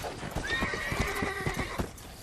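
A horse whinnies loudly over a steady clip-clop of hooves in Red Dead Redemption, with busy background noise throughout.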